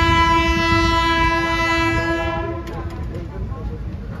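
A train sounds a loud, sustained horn at Gosainganj railway station, then the horn cuts off and rumbling carriages with clicking wheels carry on close by.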